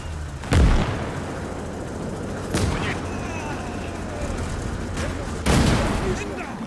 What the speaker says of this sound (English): Counter mortar fire, likely.